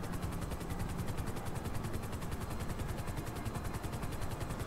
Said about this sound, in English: Yeah, I'm taking a helicopter.